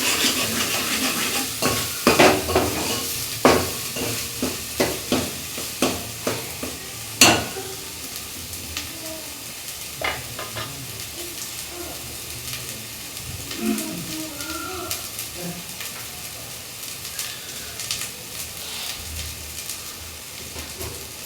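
Masala spices fry in a pan under repeated stirring, the spoon scraping and knocking against the metal in irregular strokes over a soft continuous sizzle, with louder clanks early on and quieter stirring later.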